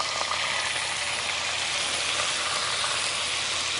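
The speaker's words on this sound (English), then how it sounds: "Then we're going to add in our orange juice." Orange juice sizzles in a hot pan while making crepes Suzette, a soft, even, continuous hiss and crackle with no pauses.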